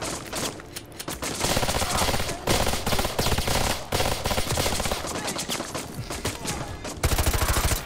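G18 akimbo pistols firing in Call of Duty Modern Warfare 2 Remastered: loud, rapid automatic bursts from two pistols, dense continuous chatter with brief pauses between strings of fire.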